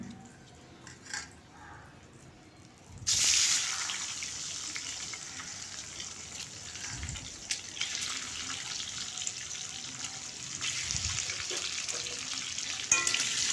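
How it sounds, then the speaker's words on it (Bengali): Egg whites dropped into deep hot oil, with a quiet start and then a sudden loud burst of bubbling sizzle that keeps going steadily, with faint stirring bumps underneath. "এবার ওই তেলের মধ্যে আমি ডিমের সাদা অংশগুলো ভেজে নেবো"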